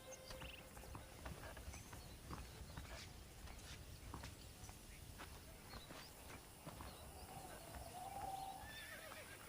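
Horse whinnies and hooves clip-clop in the Red Dead Redemption video game, faint and steady over a busy ambient backdrop, with a clearer whinny rising near the end.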